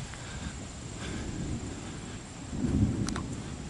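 Low, rolling rumble of distant thunder from an approaching storm in West Virginia, swelling briefly louder near the end over a steady background of wind and outdoor noise.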